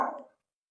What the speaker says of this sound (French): Le chien, c'est pas un problème, faut parler.